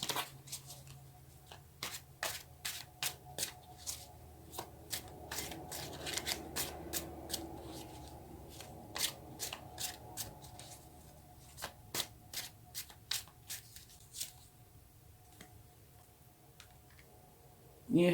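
Tarot cards being shuffled by hand close up, a quick run of crisp snapping riffles and soft slides with short pauses between bursts, no talking.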